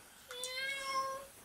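A cat meows once in a single drawn-out, clear call, fairly close inside or beside a car, with no talk over it.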